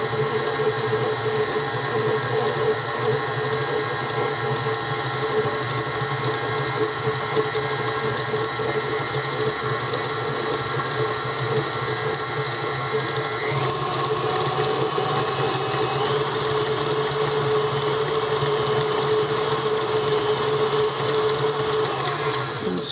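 Electric hand mixer beating sugar into a pineapple bread pudding mixture in a bowl, a steady continuous whirring motor hum, loud and close, without pause or talk.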